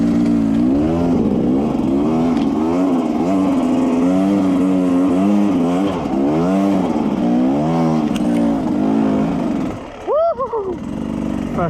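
An off-road motorcycle engine revs and accelerates in first gear on a rough trail, loud and close, its pitch rising and falling with throttle blips before dropping off near the end, with a rider's voice talking over it.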